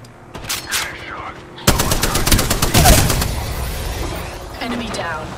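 Gunfire in Apex Legends: rapid automatic bursts open, then a loud sustained stretch of machine-gun fire rattles on for about two seconds and tapers off, with a voice talking over it.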